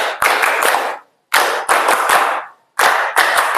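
Classroom of students doing a rhythmic clapping game, loud close sharp claps in three quick synchronized bursts, each a short patterned phrase separated by brief silences.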